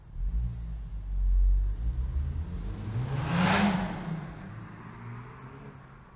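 Honda Civic Type R FK8 accelerating, a muffled engine rumble that swells twice as the revs climb, heard from inside the car, with a rising whoosh near the peak before settling back to a steady drone.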